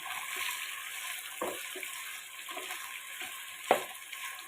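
Chicken pieces frying in oil for an aloo chicken curry, a steady close sizzle with soft crackles and a sharper pop near the end, no talking.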